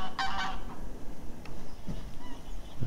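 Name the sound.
greylag geese honking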